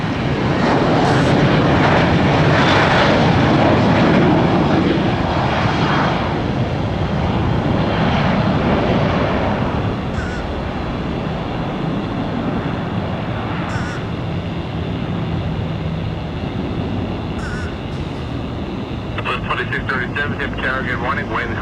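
An airliner takes off at Tampa International Airport, a loud sustained broadband engine roar that slowly eases over about twenty seconds, with radio chatter and faint talk beneath it.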